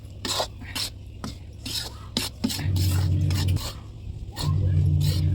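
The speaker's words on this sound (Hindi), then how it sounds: "और बिल्कुल स्लो आंच पर भून रहे हैं।" Wheat flour is stirred while roasting on a slow clay stove: a steady scrape and rattle of a utensil against the pan, with irregular clinks and a low hum building underneath at times.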